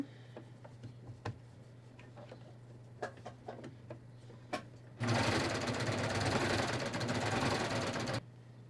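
Sewing machine stitching a pocket onto the lining shorts of a skort: a few soft ticks and taps, then a loud continuous whirring run of stitching for about three seconds that stops abruptly, close and alone.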